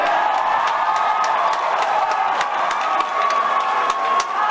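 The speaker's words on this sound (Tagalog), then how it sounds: "sinabayan ng mga hiyawan na Marcos resign" Crowd at a political rally in Davao City shouting for President Marcos to resign, a dense, continuous roar of many voices with whoops and scattered claps, loud and sustained throughout.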